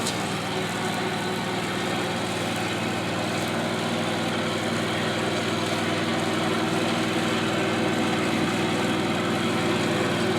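A lawn mower drones steadily as it cuts a residential yard, its engine holding a constant, loud, close hum without pauses or speech.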